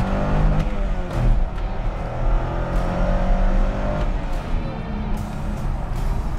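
The engine of a 2000 Chevrolet Corvette revs hard toward 6,000 RPM with a loud, dense, continuous roar, heard up close.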